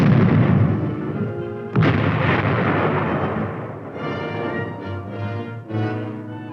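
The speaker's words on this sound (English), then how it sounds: "105mm howitzer provides support from close range for the armor team. Usually, it is used for indirect or unobserved fire. Here, however, can be seen its direct fire capability." A 105mm howitzer supporting an armor team fires in direct fire mode, delivering a heavy, loud blast that rolls into a long rumbling decay, followed by a second sharp boom partway through, with no voices.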